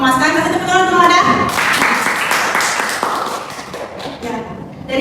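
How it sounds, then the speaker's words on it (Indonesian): A classroom gives a brief burst of clapping for a classmate, lasting a few seconds after a voice speaks and fading as talking resumes. "Kasih tepuk tangan untuk Mama Ada"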